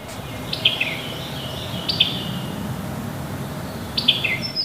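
A few clear bird chirps, including a wood thrush, ring out at intervals over a low, steady background rumble, on a river.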